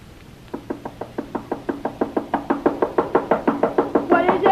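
Rapid, insistent knocking on a door as a radio drama sound effect from a 1940 CBS broadcast, over twenty sharp evenly spaced raps that grow louder and faster toward the end, close and alone with no talk.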